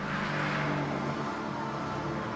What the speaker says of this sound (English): Make a lot of noise while sliding through a cloud of its own tyre smoke